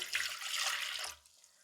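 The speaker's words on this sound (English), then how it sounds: "You're going to start with 1 cup of water." Water poured from a cup into a bread maker pan, a steady broadband splashing rush for about a second that cuts off abruptly, followed by near quiet.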